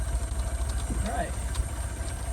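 An abandoned 1965 Toyota Corona engine runs after fuel-leak and fuel-filter repair work, giving a low, steady idling rumble with a slightly uneven pulse, with brief voices in the background.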